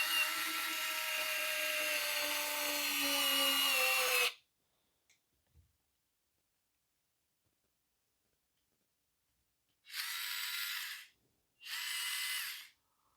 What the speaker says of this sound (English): This little screwdriver, it needs to be charged, or it don't have enough oomph to drive it